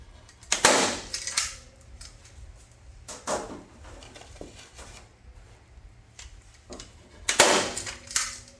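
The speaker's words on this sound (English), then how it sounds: "you want to come in with your staple gun and you just want to staple it in a few places" A staple gun fires into batting on a wooden pressing board, several sharp loud snaps spaced apart in a quiet room, with a few fainter handling clicks between them.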